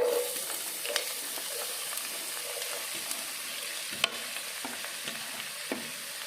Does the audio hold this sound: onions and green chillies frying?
yes